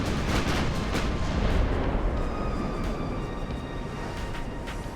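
Heavy warship broadside gunfire rolls on in a naval battle game set in the dreadnought era, a dense, loud booming rumble that stays sustained across the whole stretch with no voices.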